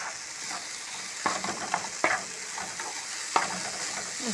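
Eggs added to tomato cooking in a frying pan sizzle steadily, broken by clinks and scrapes from stirring, close and fairly loud with no speech.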